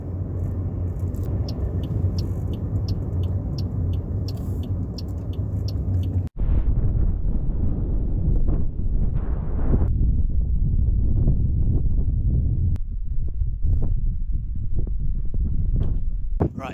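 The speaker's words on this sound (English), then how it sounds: "it's very, very windy here" Strong wind buffets the microphone outdoors on a hillside by old quarry ruins, a loud, constant low roar with a sudden gust-like shift partway through and a few faint knocks.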